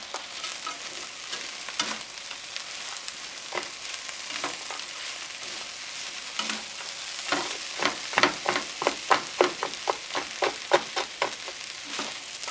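Frozen peas and carrots for fried rice sizzle steadily in a pan, with a run of rhythmic scraping stirs growing louder toward the end; no talking.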